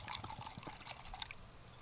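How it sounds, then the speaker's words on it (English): Dark spiced rum, about half a cup, poured from a bottle of Kraken into a measuring cup for a cranberry rum sauce; a steady close liquid trickle and splash lasting a couple of seconds, with no talk. "now what we're going to do is add a half a cup of dark spiced rum"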